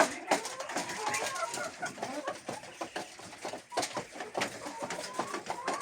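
Dominant laying hens in a henhouse clucking and cooing steadily, several birds close by with overlapping calls and no talk.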